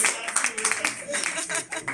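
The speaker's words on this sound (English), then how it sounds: "A round of applause" Scattered hand claps from a small group patter for a couple of seconds, with voices murmuring underneath.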